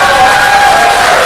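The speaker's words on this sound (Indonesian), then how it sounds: "Tepuk tangan dong buat Indonesia." A church congregation cheers and claps for Indonesia, a loud, dense, continuous roar of crowd noise throughout.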